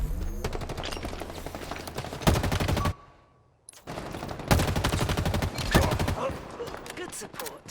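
Rapid gunfire during a live fire exercise in Halo, bursts of close, loud automatic shots broken by a brief near-silent gap, then resuming with heavier reports, with a voice faintly present.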